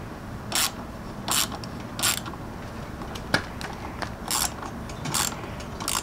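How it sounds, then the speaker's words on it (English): Mirror mount on a Honda Ruckus scooter being tightened by hand, giving a series of short ratcheting clicks in separate bursts, with one sharp metallic tick in between, close up and fairly quiet. "I need to tighten this up some more."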